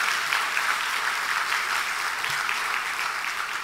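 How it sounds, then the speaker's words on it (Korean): A church congregation at a Sunday evening service applauds in thanks to the visiting pastor, a steady, even wash of many hands clapping throughout with no speech. "목사님께 감사하다고 하는 박수를 한번 하십시다"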